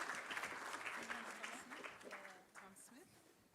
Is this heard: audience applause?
yes